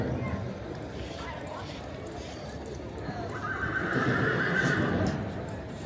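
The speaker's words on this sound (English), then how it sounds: "That one horse is the only horse that's been talking since I've been in here." A horse whinnies loudly over a background of hooves clip-clopping and distant crowd noise at the South Point hotel casino equestrian center, with no voices clearly audible.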